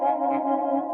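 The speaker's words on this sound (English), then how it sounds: "it's sort of got like a modulation-y tremolo, but with a reverb tail" A sustained guitar tone through a Strymon Nightsky reverb pedal, with wavering tremolo pulsing and a washy reverb tail, steady and fairly loud throughout.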